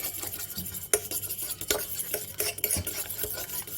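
Spoon stirring and scraping a pizza topping mixture seasoned with Maggi masala in a bowl, repeated close scrapes and clinks in an uneven rhythm, no voices.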